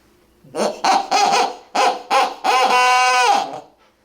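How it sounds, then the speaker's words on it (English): A loud hooting owl call blown on a Quaker Boy hand call: a series of short hoots followed by a longer drawn-out hoot, close and clear with no talking. "I like this owl hooter because it's super loud"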